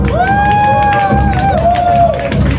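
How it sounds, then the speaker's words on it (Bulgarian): Crowd cheering and clapping at a trans beauty pageant as a contestant takes the stage, with loud whooping, high cheers and shouts over steady applause and audience hubbub. "Моля, аплодисменти на сцената за Емилио Стефанов."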